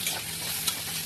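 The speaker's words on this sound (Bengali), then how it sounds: "আলু বেগুন ভাজছে" Potato and eggplant slices frying in a pan, a steady dense sizzle of hot oil throughout with one brief crackle, close and unbroken.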